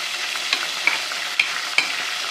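Garlic frying in a pan for a spiced mash daal, with a low steady sizzle and a few soft stirring knocks, heard on its own without talk.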